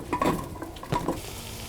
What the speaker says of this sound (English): I'm going to put my vegetables in and sweat them